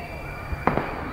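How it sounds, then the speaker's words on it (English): Bonfire night firework going off in the distance over a city skyline, a single faint sharp bang followed by a quick echoing crack, heard alone against a low background hum. "It's a firework."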